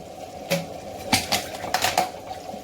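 Chicken and olives being stirred in a cooking pot for Moroccan olive chicken, with a series of close metallic scrapes and clinks of the spoon against the pot over a soft background hum.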